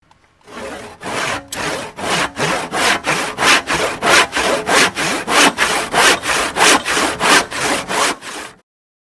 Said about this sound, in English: sawing a log.